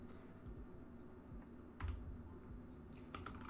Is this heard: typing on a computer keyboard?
yes